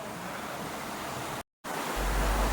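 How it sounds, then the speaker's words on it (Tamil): Small forest waterfall pouring steadily, a broad continuous rush of flowing water heard close, cut by a brief silent gap midway before resuming a little louder. "ஒரு சிறிய நீர்வீழ்ச்சி, அந்த தண்ணி போகிற சத்தத்தை கேட்டு மனசு கொஞ்சம் அலப்பாயுது"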